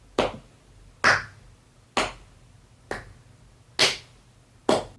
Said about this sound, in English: what I want is actual footage of me clapping